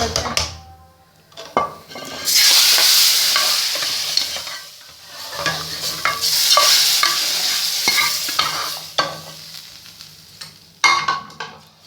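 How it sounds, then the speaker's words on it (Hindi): Tempering for masoor dal sizzles in a pan in two loud bursts of hot-oil crackle as green chillies and spices go in, with spoon stirring and clinks against the pot in between. "अल्हम्दुलिल्लाह दाल को तड़का लगता है।"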